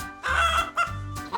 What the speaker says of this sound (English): Those are chickens.